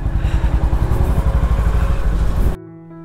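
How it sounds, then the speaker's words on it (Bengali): A motorcycle pulls away in first gear just after a cold start, its engine chugging loudly in rapid pulses close by for over two seconds before cutting to a quieter tone at the end. "Cold start complete, first gear দিয়ে দিলাম।"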